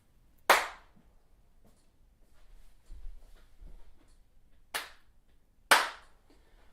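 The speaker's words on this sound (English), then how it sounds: "I'm listening for like if there's a delay in one, like if there's double claps" Three sharp, isolated hand claps, one early and two close together near the end, made in a quiet room to sync multicam audio, with faint murmuring between them.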